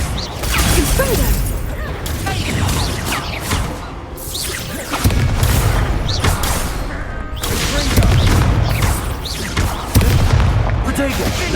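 Explosive spell blasts from the Hogwarts Legacy video game, booming impacts and crashing bursts in a dense, loud battle mix with repeated whooshes and a voice shouting spell names.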